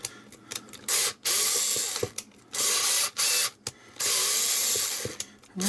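A cordless electric screwdriver low on charge drives a screw during an Atari 2600 Heavy Sixer console restoration, giving several short bursts of whirring ratchet clatter separated by brief pauses, close and fairly loud.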